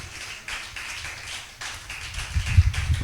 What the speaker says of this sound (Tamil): கைத்தட்டி அவரை துதிப்போம்.